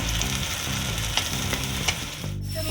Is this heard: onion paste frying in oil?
yes